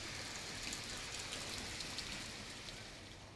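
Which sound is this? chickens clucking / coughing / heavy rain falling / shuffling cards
heavy rain falling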